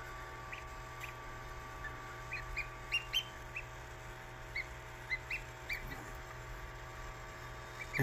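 Newly hatched mallard ducklings give short, high peeps scattered across a quiet, steady background hum, some clustered in quick pairs.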